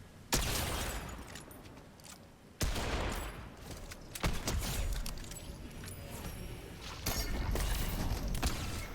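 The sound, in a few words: gunfire from a gun in a video game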